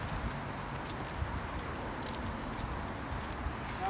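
Pony hooves clip-clop on the ground as the animal is led at a walk back toward its paddock, a few soft, faint hoof strikes scattered over steady outdoor background noise.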